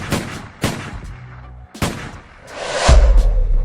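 A reenacted shooting from a white Cadillac on Flamingo Road in Las Vegas, aimed at Tupac's side of a car, with several sharp, loud gunshot cracks spaced apart and a rumbling burst at the end.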